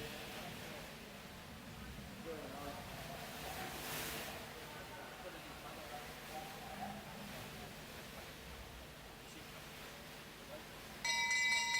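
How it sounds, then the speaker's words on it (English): A bell rings at a velodrome to signal the final lap of a junior women's track cycling race, clear metallic tones entering near the end over steady crowd and arena noise. "They get the bell for the last lap."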